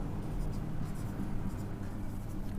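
Pen scratching steadily on paper while writing out the given of a math theorem, faint and close, a continuous light scribbling with a soft low hum beneath.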